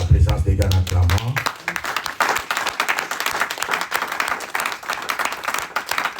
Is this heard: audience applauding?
yes